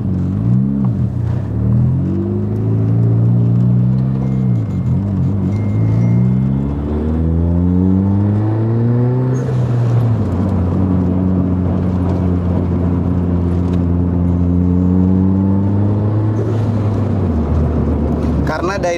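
A tuned Mitsubishi Evo 4 RS with about 330 whp accelerates hard, its engine climbing in pitch through several gear pulls, loud and close with a steady roar and brief dips between shifts, over a low rumble.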